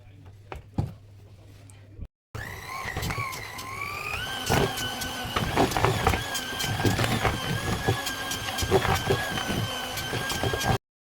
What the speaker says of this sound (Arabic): وبعدين هستخدم المضرب بتاعي